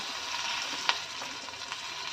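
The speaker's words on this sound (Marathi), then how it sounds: "हिरवी मिरची तिची फोडणी आणि परतून घेऊया" A tempering of cumin, garlic, curry leaves, mustard seeds and asafoetida fries in hot oil, giving a soft, steady sizzle with a couple of sharper pops near the middle.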